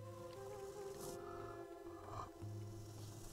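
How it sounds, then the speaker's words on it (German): Deep, drawn-out growling from a creature in the fantasy role-playing game Gothic 2, one low sustained snarl with a brief break before it resumes, steady and fairly loud against a droning game soundtrack. "Naja, hör auf, so lang zu knurren."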